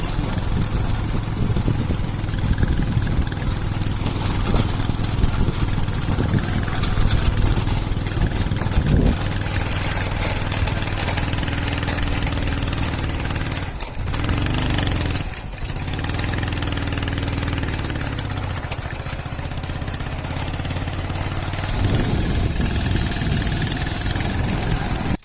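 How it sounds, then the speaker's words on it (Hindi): Motorcycle engine idling and revving steadily while the bike sits stuck in deep sand along a riverbank, a continuous close drone that dips briefly in the middle, with no talking. "ये जी बाइक फिर से फंस चुकी है क्योंकि यहाँ पे रेत ही रेत है"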